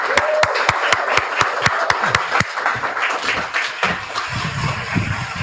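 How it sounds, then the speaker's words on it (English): Conference audience at a Rotary district gathering greets a speaker with a dense, loud round of applause, a few sharp close claps standing out at first before the sound settles into a steady crowd wash with faint murmuring underneath. "Oh, I hear that applause"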